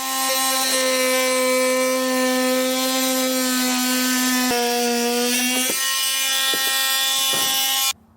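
Oscillating multi-tool cutting an opening in thick plastic on a 2021 Jeep Wrangler base plate install, a loud, steady buzzing drone with a few pitch shifts as the blade bites, stopping abruptly at the end.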